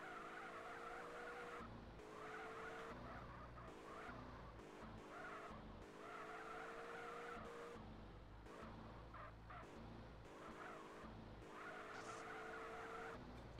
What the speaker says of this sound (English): And yeah, look at the drift.